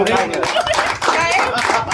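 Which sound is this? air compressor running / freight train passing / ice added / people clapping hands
people clapping hands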